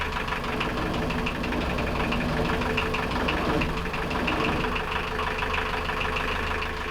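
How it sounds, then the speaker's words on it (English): A Canaline 42 diesel engine on a narrowboat runs close by after starting, giving a steady knocking, chugging idle with a continuous low rumble and no voices. "I then started the engine to ensure the diesel was getting to it correctly."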